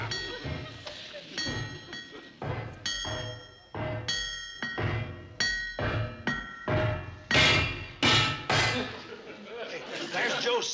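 Metal hammering on an old steam locomotive, the Cannonball, rings out as a series of sharp clanging strikes in an irregular rhythm, close and fairly loud, with a few voices chattering underneath.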